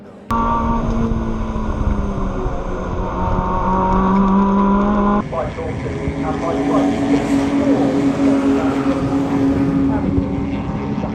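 Racing cars on a circuit, a big Audi running just behind a Honda S2000, their loud engines droning and rising in pitch as they approach closely, with a commentator talking over the roar throughout.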